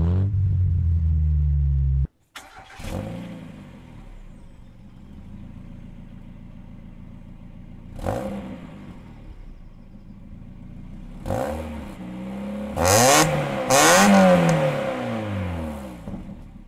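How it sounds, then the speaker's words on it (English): A first-generation Mazda Miata's four-cylinder engine revs up and down several times, the exhaust note rising in sweeping climbs that grow louder near the end, with no talking. "Say what you want about a Gen 1 Miata, it does sound a lot like an old British 4."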